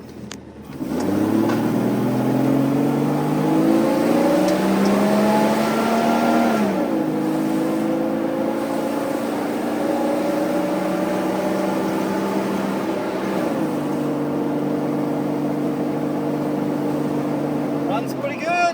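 An off-road vehicle on 37-inch tires with an upgraded motor runs steadily and close by, its engine tone rising with revs, then settling and shifting pitch a few times before easing down.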